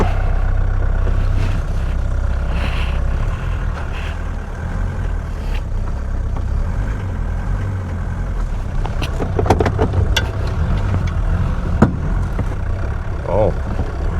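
A Mercedes W115 engine idles unevenly with a loud, steady low rumble that has slight wavering, heard close with some talking over it.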